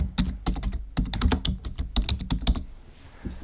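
A name being typed on a computer keyboard, with rapid, close, crisp keystrokes in quick bursts for about three seconds, then quiet.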